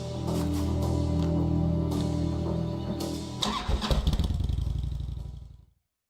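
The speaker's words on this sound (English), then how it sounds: "Forgot you own your own motorbike." Motorbike engine starting in the video game Kathy Rain 2: a steady mid-pitched idle rumble shifts into a burst of rapid clattering revs, then cuts off to silence near the end.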